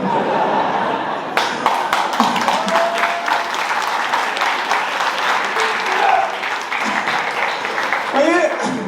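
Audience applause at a stand-up comedy show at INSA Toulouse: steady dense clapping fills the room for the whole stretch, loud and close, with scattered chuckles and a few voices murmuring underneath.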